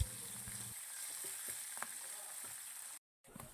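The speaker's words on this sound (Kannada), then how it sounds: "ಇದನ್ನು ಹಾಕಿ ಸ್ವಲ್ಪ ಫ್ರೈ ಮಾಡ್ಕೊಳ್ಳಿ" Curry leaves and green chillies fry in a pan, making a soft, quiet sizzle that continues for a few seconds before a brief dropout, close by, with no voices.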